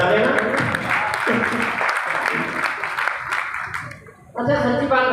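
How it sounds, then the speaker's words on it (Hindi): A kavi sammelan audience claps for a poet who is a teacher, a thick, steady wash of applause with faint murmurs underneath that dips briefly near the end before swelling again. "बच्चे को ताली अगर आप मन करें तो बजा लेना"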